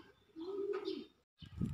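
Pigeons coo softly nearby, a single low rounded coo followed by a brief pause and another starting call, faint and close.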